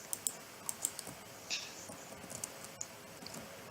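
Computer keyboard keys pressed in short irregular bursts of light clicks, quiet and close with brief pauses between taps.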